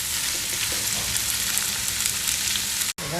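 Chopped onions sizzle steadily in hot oil in a pan for a Malvani egg curry, a dense close frying hiss with faint stirring scrapes, cut off abruptly near the end.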